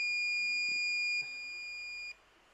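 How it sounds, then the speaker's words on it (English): A multimeter continuity tester beeps while probing an iPhone 6s logic board, a sustained high electronic tone, loud and close, cutting off abruptly after about two seconds. "we have a beep on this side as well"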